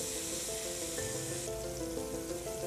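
Onions frying in a pan for a vegetarian fish curry: a soft, steady sizzle, continuous and fairly quiet, with faint tonal background music and no talk.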